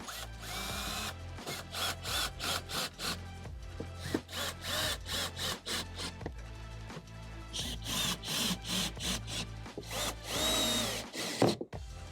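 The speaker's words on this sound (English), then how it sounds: "You're going to take the screws right back in." A power drill driving screws back in while reinstalling door speakers in a Tesla, with repeated short bursts of whirring, stopping and starting close by.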